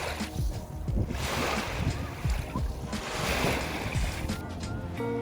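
Ocean waves wash onto a beach on Japan's Noto Peninsula, a steady broad surf roar with wind buffeting the microphone and faint voices mixed in.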